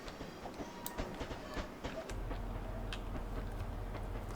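A train in the Train Simulator 2021 game runs on the Liverpool to Manchester line toward Manchester Victoria, with clicking rail noises at first, then a steady, loud, low rumble that holds through the rest, with no talk.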